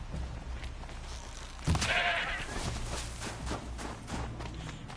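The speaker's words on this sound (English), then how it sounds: "Oh look, there, a little goat." A goat bleats once in Horizon Zero Dawn, a short clear call rising over steady game ambience and soft footsteps, with no voices.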